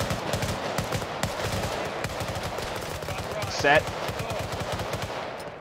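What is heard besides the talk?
gunfire in a video game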